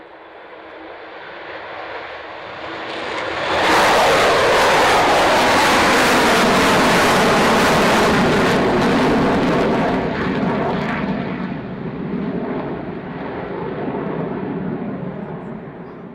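A Falcon display aircraft takes off at the Fairford airshow with a roaring jet engine that builds from a distant rumble into a loud, sustained, close roar, then eases slightly as it moves away.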